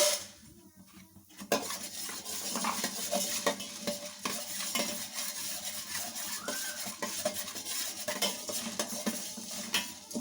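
Fenugreek and black peppercorns dry roast in a pan, a spoon scraping and clinking against the metal in a busy, repeated stirring rhythm over a faint sizzle.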